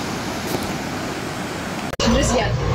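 Sea waves break on a beach at a four-star resort in Vietnam, with breakwaters nearby and a red flag up, heard as a steady, moderate rushing wash of surf that shifts abruptly near the end.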